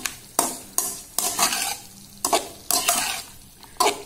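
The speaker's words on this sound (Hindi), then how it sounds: "ये मैं इसमें डालूंगी गाजर, ठीक है, ये सारी चली जाएगी। इसको बस फ्राई करेंगे हल्का सा।" Carrots lightly frying in a pan for Chinese-style black pepper chicken, with repeated spatula stirs and scrapes over a soft sizzle, loud and close, no talking.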